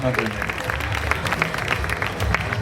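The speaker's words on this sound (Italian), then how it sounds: "Vorrei un grosso applauso per Michele Sartori, nostro partner per il Veneto." Applause from an audience at a regional Veneto beauty pageant final, steady clapping under a low background murmur of voices and music, fairly close and continuous.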